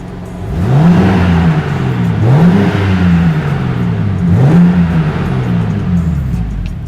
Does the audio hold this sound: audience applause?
no